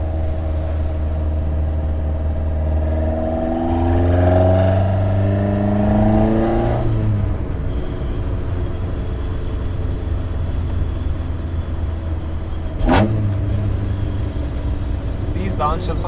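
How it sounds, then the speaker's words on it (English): A VW Golf Mk2 GTI with a 2.0 16v engine drives a mountain pass, revs rising and falling through downshifts under steady road and cabin noise, ending in a short sharp blip. "These downshifts aren't too bad either."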